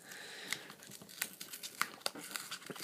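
Crinkly plastic wrapper of a homemade trading card game pack being peeled back by hand, a run of close, sharp crackles and tearing bursts with no talk.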